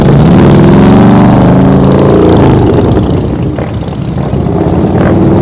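A motorcycle engine throttles up and down during slow-speed riding practice through gates, loud and close, with a rumbling, revving growl that swells and then eases off partway through.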